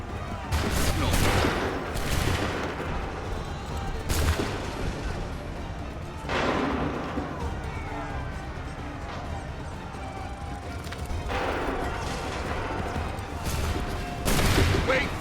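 Musket volleys crack out repeatedly in the Assassin's Creed III video game, several sharp broadband blasts spaced a few seconds apart over a steady battlefield din, with shouted commands in between.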